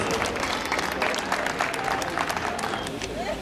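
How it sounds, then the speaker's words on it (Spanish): A crowd at a public administration day ceremony applauds to welcome a speaker, with strong, dense clapping and murmuring voices mixed in, loud and continuous for a few seconds. "a quien lo recibimos con fuertes palmas"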